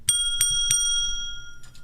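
A bicycle bell rings in three quick, bright dings close to the listener, followed by a fainter fourth ding as the tone rings on and fades.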